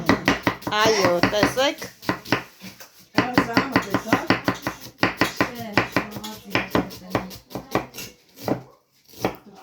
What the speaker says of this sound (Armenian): Տեսեք ինձ վարպետորեն կտրում է սոխը